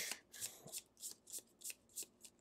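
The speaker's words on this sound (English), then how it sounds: "Shuffle, shuffle." A deck of cards for the Gloomhaven board game being shuffled at close range, sounding as a quick, even run of about eight crisp riffles and snaps with no talking.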